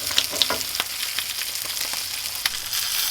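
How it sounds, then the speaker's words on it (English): An egg fries in a pan while a burger is being cooked, giving a continuous crackling sizzle with scattered sharp pops, loud and close, with no talking. "I still need to cook the egg, so I'll move that over and crack the egg in"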